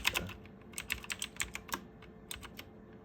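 Keys clatter on a computer keyboard during a Cisco router password recovery, a close run of quick uneven taps in bursts with short pauses and a few sharper keystrokes.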